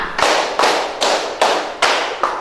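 Six sharp, evenly spaced hand claps in a steady beat, about two per second, from a group playing a counting clapping game; loud, close and dry with no talking between them.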